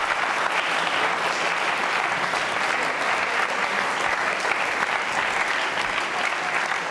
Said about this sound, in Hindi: आप जोरदार तालियां बजाइए।